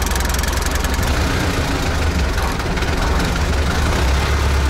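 Old T-40 tractor engine running after being started, a loud, steady diesel knocking and rumble close by, with no talk over it.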